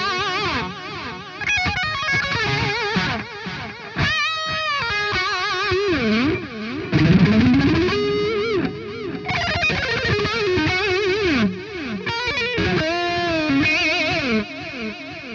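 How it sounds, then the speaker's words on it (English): Distorted electric guitar runs through the PolyChromeDSP Nutcracker plugin, with delay tails ducked while notes are played, giving a dense continuous stream of bent, heavy phrases that stay fairly loud throughout. "delay tails are going to be ducked until you stop playing"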